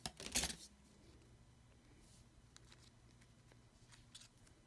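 Scissors snip through paper card in a single quick, crisp burst near the start. Quieter faint handling taps follow in an otherwise hushed room.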